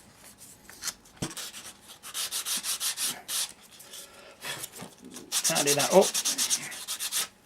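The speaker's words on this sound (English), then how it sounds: "You get your bit of sandpaper," Hand sanding a wooden part of a model signal box with sandpaper, a close, steady scratchy rubbing in repeated back-and-forth bursts, with a brief spoken remark partway through.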